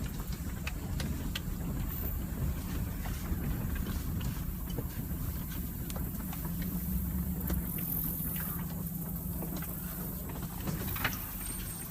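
Low, steady rumble of a pickup truck engine as it drives slowly down a dirt track toward a river, heard from inside the cab with constant drone, light rattles and some wind buffeting.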